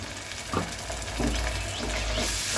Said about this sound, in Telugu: అది కూడా బాగా కలిసేటట్టు వేగేటట్టు కలుపుకుందాం.